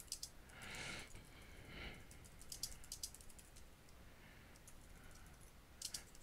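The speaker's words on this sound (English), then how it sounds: "you can see how I just type in this" Keys on a computer keyboard tap quietly in irregular bursts and scattered clicks, close but faint, with soft breathing in the background and no talking.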